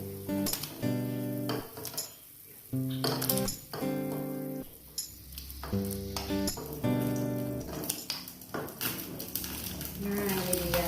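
Pork bones go into a pot of boiling water for Balinese jukut ares, a home-cooked vegetable soup, giving a steady hiss and sputter throughout, under background music and a voice talking.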